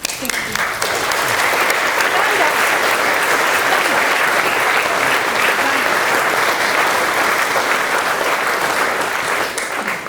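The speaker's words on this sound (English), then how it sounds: "Mark Isaacs needs a little clap, actually." An audience at a memorial event in a creative centre applauding warmly, a dense, steady wash of clapping from many hands that holds at full strength for about ten seconds, with voices faintly mixed in.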